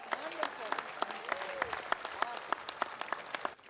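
A graduation ceremony audience applauds at moderate distance, dense clapping with sharp individual claps standing out, while a voice speaks over it.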